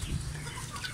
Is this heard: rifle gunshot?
no